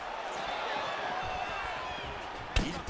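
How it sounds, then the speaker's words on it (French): A powerful low kick landing in the UFC 4 fighting video game, one sharp impact thud near the end over a steady arena crowd background. "Il porte un puissant low kick."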